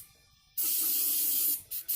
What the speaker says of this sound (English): And spray the parts with gun scrubber into the bucket.